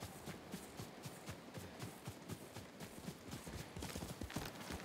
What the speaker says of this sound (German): Oh Gott, Pferd kommt von da hinten angerannt.